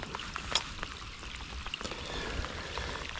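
Rain patters steadily outdoors during a fishing outing, a soft, even hiss of drops falling on the surroundings with a few sharper taps.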